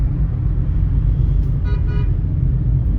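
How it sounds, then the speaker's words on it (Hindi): Heavy road traffic in Greater Noida rumbles loudly and steadily, with a couple of short car horn toots partway through the dense, continuous noise. "दूर दूर तक ट्रैफिक है।"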